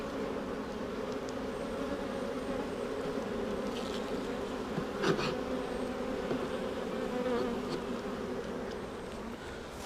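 Honey bees buzz steadily throughout a spring hive inspection, a dense continuous drone of many insects close by with occasional individual bees passing nearer, and no talk.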